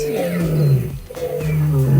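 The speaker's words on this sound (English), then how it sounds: "Lions roar a lot." A lion roars in two deep, drawn-out bursts with a brief gap between them, loud and close with no talking.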